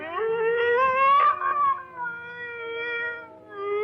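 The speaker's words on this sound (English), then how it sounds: "What's wrong with the dog?" A dog howls and whines in a 1948 mystery-comedy film scene, a wavering, drawn-out tonal wail with rising and falling pitch, loud and close with no speech over it.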